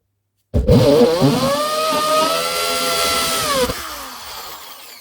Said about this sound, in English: I'm just going to drill the hole in the center of the clock